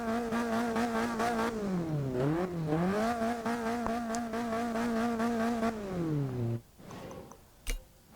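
A Mazda MX-5's 1600cc engine in the video game Forza Horizon 2 revs up and down in sweeping tones, climbing and falling repeatedly before cutting off, followed by a few faint clicks.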